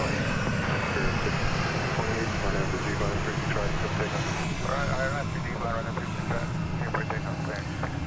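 An American Airlines Boeing 737-800 passes by at DFW, its steady engine roar filling the whole stretch at fairly close range, with voices talking over it and radio chatter mixed in.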